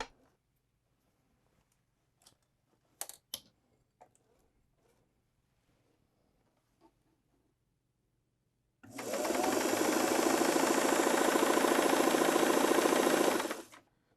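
A vintage Singer 327 sewing machine, freshly oiled and cleaned, runs in a steady fast whir for about five seconds after quiet faint clicks and handling noises, close and alone.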